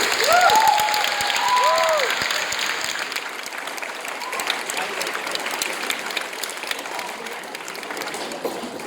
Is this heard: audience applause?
yes